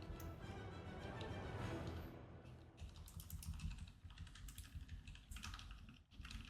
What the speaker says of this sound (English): I'm trying to like get my keyboard a little harder than normal so you could hear it.